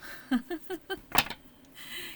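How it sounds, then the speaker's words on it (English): A deck of oracle cards with long, oversized cards is shuffled: a quick run of four or five soft riffling snaps, then a sharper clack as the deck squares up, close and with no voices. "let's go ahead and try to shuffle these"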